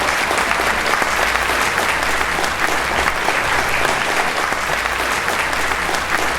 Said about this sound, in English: Give an applause to Akash, please.